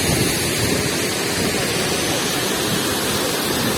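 Steady, dense roar of rushing water at Tortum Waterfall in Turkey, constant and loud throughout with no pauses.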